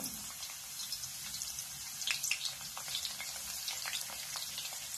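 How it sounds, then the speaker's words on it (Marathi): Garlic dropped into well-heated oil for a pumpkin and dill vegetable dish, giving a soft, crackling sizzle with scattered pops and spits, fairly quiet and continuous. "हे पहा, तेल चांगलं गरम झालेलं आहे। आता याच्यामध्ये मी प्रथम काय करते, लसूण घालते"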